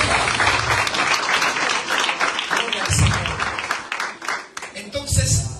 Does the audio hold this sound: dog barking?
no